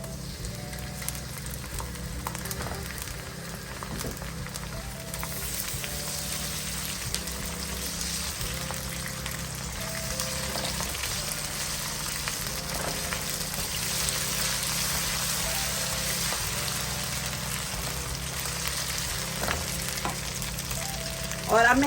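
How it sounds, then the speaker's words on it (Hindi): Ginger and garlic paste fries in a pan, a steady crackling sizzle with occasional stirring scrapes that swells slightly toward the end, close and continuous, with no talking. "तो अब मैं इसके अंदर डालूंगी ये 1 टीस्पून अदरक और 1 टीस्पून लहसुन का पेस्ट है"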